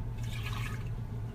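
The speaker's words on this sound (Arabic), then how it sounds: "بعدها أضيف عليهم 4 أكواب من المي." A cup of water pours into a bulgur mixture in a kitchen, a brief, close, steady splashing and trickling rush.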